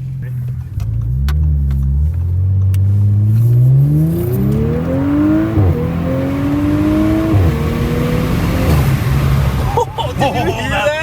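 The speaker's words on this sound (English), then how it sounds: "That sound, that intake on like sounds insane." A B9 Audi S5 fitted with a 034 Motorsport P34 cold air intake revs up repeatedly in rising pulls and drops back, loud and close, with people talking excitedly over it.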